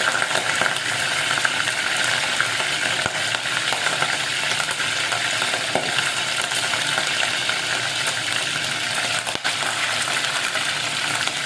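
Steady, loud sizzling of wet, undrained fish frying in hot oil, with constant crackle and occasional sharper pops from the water throughout, no voices.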